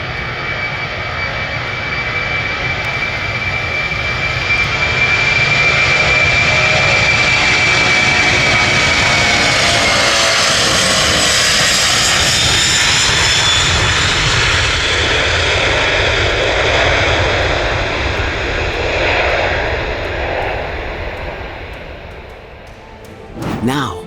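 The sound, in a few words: US subway train roaring as it arrives at station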